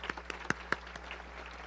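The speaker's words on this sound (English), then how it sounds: "If we can give them a round of applause." Modest applause from a club meeting audience, sparse individual claps with a few sharper close ones, thinning out over a steady background hum.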